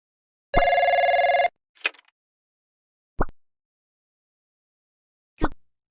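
A phone rings once in the Korean mobile game Trickcal Revive, giving a short, loud electronic trill, followed by a few brief, sharp interface blips spaced apart against silence.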